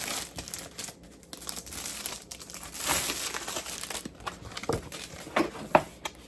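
Crinkling and tearing of plastic packaging around Cricut smart paper sticker cardstock being opened by hand, a close, busy rustle with sharper snaps near the end and no talking.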